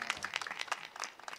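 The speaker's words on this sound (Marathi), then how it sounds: "टाळ्या वाजवा आणतात त्यांच्यासाठी." An audience at a Marathi religious discourse by a Bhagavatacharya claps together, a faint, fairly distant patter of overlapping hand claps.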